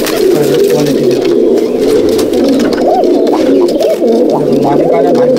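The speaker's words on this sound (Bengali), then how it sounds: "দেখুন পায়রা নর আর মাদি, ছেড়ে শখ করাচ্ছি পায়রা" Black-eyed Madrasi pigeons, males and females, coo in a home loft in Halisahar, North 24 Parganas: loud, close, overlapping throaty rolling coos that run without a break.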